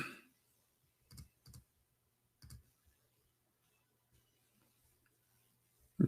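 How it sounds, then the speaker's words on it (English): A few scattered, quiet clicks from a computer keyboard in a quiet room, arriving in two small bursts with long silent gaps between them. "Let me type it for you on the screen."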